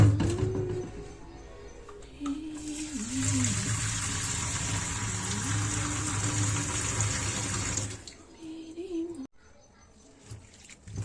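Tap water runs steadily into a sink while fresh mint leaves are rinsed, a loud continuous gush in the middle section, with someone talking over it before and after.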